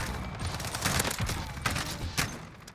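An M4A1 rifle in a video game fires in rapid automatic bursts, sharp loud cracks in quick succession with short gaps between them.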